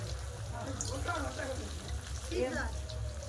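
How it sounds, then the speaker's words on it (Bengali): Whole Kashmiri potatoes fry in white oil in a wok, giving a quiet, steady sizzle and crackle while a voice talks over it. "কড়াই দিয়ে দিয়েছি সাদা তেল এবার আলুগুলো ভেজে নেবো"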